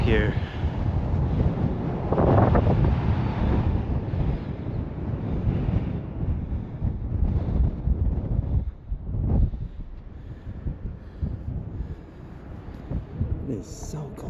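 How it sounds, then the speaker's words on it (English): Strong, cold wind high up at the Astoria Column buffets the microphone in a loud, continuous low roar that rises and falls in gusts. "It is windy"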